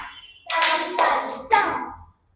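Three sharp hand claps ring out in a kathak tihai practice, spaced roughly half a second apart, close and loud, each with a short resonant tail before the room falls silent.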